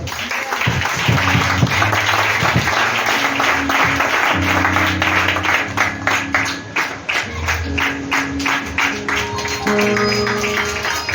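A church congregation applauds during a thanksgiving service, with steady, dense clapping running throughout alongside sustained musical tones.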